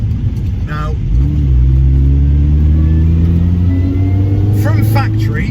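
A modified facelift R53 hot hatch with a 15% reduced supercharger pulley and uprated intercooler accelerates hard on a country B-road, its engine note climbing loudly and steadily under a voice talking.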